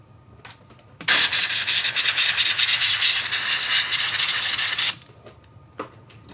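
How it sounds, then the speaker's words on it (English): A tool scrapes old light seal foam off an Olympus OM-1n film camera, making a loud, close, continuous rasping rub that lasts about four seconds. Faint clicks come before and after it. "Gotta scrape her off of there."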